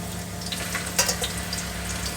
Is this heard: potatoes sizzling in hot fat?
yes